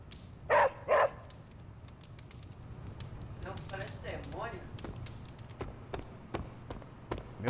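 Charlie the dog barks in the video game Marvel's Midnight Suns, two loud close barks near the start followed by softer whines and snuffling over quiet game ambience.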